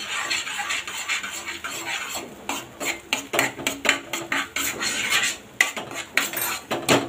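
A boiled potato mixture for mirchi pakoda is sautéed in a pan over medium heat, a utensil scraping and clinking continuously against the metal with a faint sizzle underneath.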